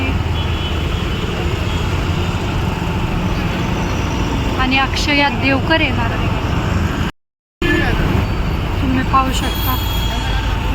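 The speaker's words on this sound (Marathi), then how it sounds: "गाड्या भरून भरून चाललेल्या आहेत" Vehicles stream through a crossroads crowded for a Paithani event, making a dense, continuous traffic rumble. Someone talks over it, and the sound cuts out for a moment partway through.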